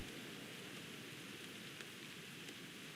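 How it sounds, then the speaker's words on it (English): Steady in-game rain in the strategy video game Warpath, a soft, even hiss of falling rain with a couple of faint tick-like drops, quiet and continuous with no talking. "It's raining."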